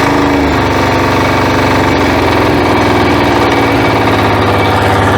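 A diesel walk-behind tractor engine runs loud and close, its steady chugging idle rising slightly in pitch as it is revved early on, then holding a dense, continuous mechanical drone.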